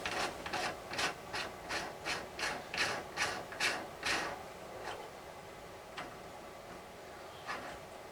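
A die is screwed into a Lee Loadmaster reloading press, producing a rhythmic series of close ratcheting metallic clicks and rubbing threads, slowing and fading out after a few seconds.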